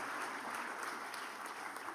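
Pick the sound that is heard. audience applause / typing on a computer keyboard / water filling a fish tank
audience applause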